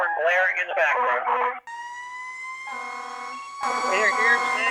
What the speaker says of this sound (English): With its siren and horn blaring in the background.